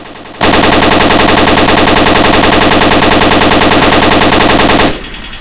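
Machine gun fire in the Arma video game: one loud, continuous rapid burst lasting about four and a half seconds, close and dominant, with no talking.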